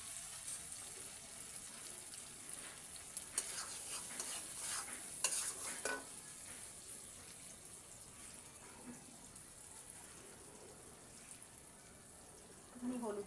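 Spices such as chilli powder and turmeric frying in oil for a dhoka curry, a soft low hiss with scattered scraping strokes of stirring, fairly faint and close throughout.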